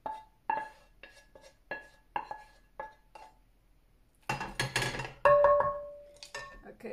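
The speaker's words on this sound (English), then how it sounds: "turn off the stove, and then we're going to transfer to a big pot that we can cook" Metal utensils clink against a small pan in a few sharp, separate taps, then beef shank stew is scraped and poured into a big pot with a louder clatter and sloshing scrape, close by in a quiet kitchen.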